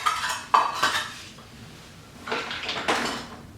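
A set of camping measuring cups is handled, giving a few sharp clinks and clatters of nested metal cups in two bursts separated by a quieter pause, with no talking.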